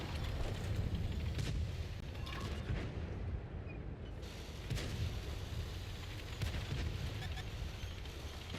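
Muffled booms from artillery fire in a tank video game around the BZ-176, heard as several dull thuds over a steady rumbling engine and mechanical drone.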